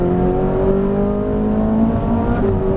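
A Ferrari 458 Italia engine hums steadily up close, its pitch rising slowly and evenly as the car gathers speed, with no voices.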